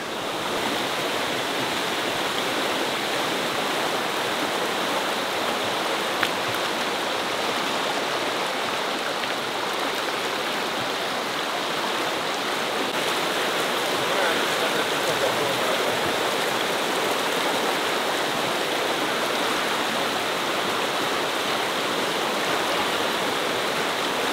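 River rapids roar with a constant, loud rush of whitewater, a steady broadband churn that never lets up, heard close by along a kayaking route.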